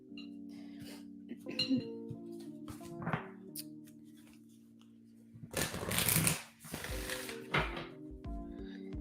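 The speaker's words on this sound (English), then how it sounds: "Don't mind me while I shuffle my decks over here" Tarot card decks shuffled close by in a quiet room, with soft riffling and tapping bursts scattered through, a louder flurry near the end over a steady low hum.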